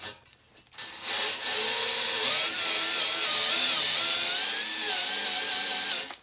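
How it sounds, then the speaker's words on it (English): A wire wheel grinds powder coat off a Yamaha YZ125 dirt bike frame, starting after a brief faint sound and running as a loud, steady abrasive whine with a wavering pitch for about five seconds, with no talk. "So let's wire wheel that out real quick."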